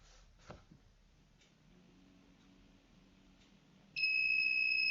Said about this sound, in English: The buzzer will be on for the next 5 seconds